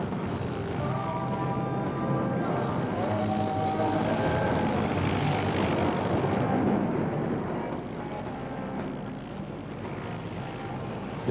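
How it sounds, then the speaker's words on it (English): A Sukhoi Su-30 MKI fighter jet roars loudly at an air show as it performs a tail slide, a sustained, rumbling engine drone that swells and then eases slightly toward the end. "the pilot stops the aircraft on its tail and slides it down tail first"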